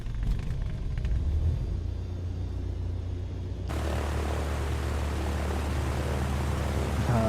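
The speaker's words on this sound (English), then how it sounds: "Love the engine fire up on these piston airplanes" Piston airplane engine starting up in Microsoft Flight Simulator, low steady rumble that suddenly swells into a louder, broader roar midway as the engine catches and runs, no talking.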